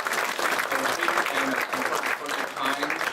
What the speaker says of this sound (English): let's give a big round of applause to Nirav and the whole panelists